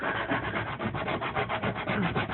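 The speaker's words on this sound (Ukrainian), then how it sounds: "І все легенько шліфується" Steady hand sanding on wood, a rhythmic rasping scrape repeating back and forth at a brisk pace, close and continuous with no voices.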